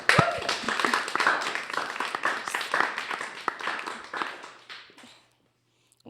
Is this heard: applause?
yes